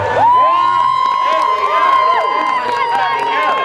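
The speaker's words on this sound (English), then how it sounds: "Let's give them a big round of applause to get things started" A crowd at a caravan demolition derby cheers and whoops loudly, with shouts and high voices rising over one another and a sustained tone running beneath the noise, all close and continuous for a few seconds.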